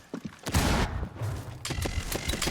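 Gunfire crackles during a competitive Rainbow Six video game match, a dense burst of shots and impacts that starts after a brief quiet and continues loud to the end.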